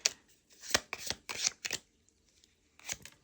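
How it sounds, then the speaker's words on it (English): Tarot cards are shuffled by hand in a series of soft, quick riffling bursts with short pauses between them, close and quiet with no talking. "Somehow I feel like this is just bad shuffling."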